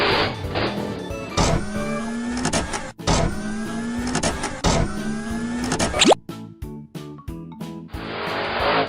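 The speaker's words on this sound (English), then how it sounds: "The tow truck is here." Cartoon tow truck driving with a busy run of synthetic motor whirs and revving sweeps, loud and close, broken by sharp clicks and a bright burst at the end.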